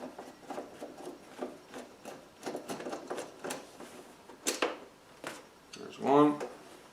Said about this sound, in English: there are two bolts holding the seat in place. So we'll go ahead and remove those.